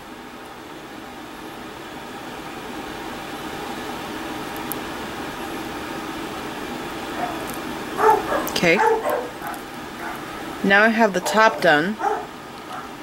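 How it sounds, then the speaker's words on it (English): Dogs bark in short, loud bursts a short way off, with a brief pause between two rounds; someone speaks briefly before the barking. "sorry about the dogs barking"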